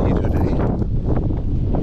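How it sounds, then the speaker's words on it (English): Strong wind blowing outdoors on a sunny morning, buffeting the microphone with loud, low rumbling gusts that roll continuously without a break. "Windy today."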